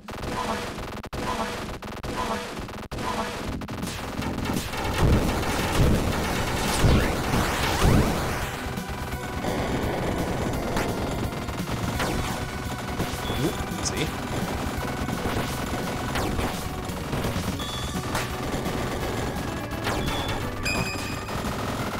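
Gunfire in the shoot-'em-up video game ZeroRanger: rapid layered shooting and whooshing effects over dense game music, with brief louder bursts, under a speaking voice.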